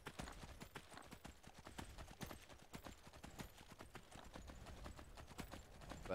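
Hooves of a ridden horse in Skyrim clopping in a fast, steady rhythm, a continuous run of crisp thuds with no talk, moderately faint.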